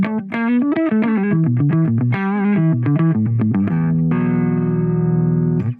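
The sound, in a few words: electric guitar through JangleBox JB Nano compressor pedal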